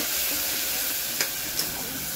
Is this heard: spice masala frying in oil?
yes